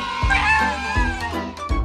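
A cartoon kitten gives several high, whiny meows in quick succession, close and fairly loud over a musical background, with a short pause between cries.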